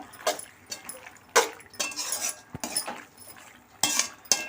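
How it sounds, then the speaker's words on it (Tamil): Pasta is stirred in a pan with a few scattered metallic clinks and scrapes of a utensil against the pan, close and moderately loud, separated by quieter pauses. "போட்டு நல்லா கிளறி விடுங்க"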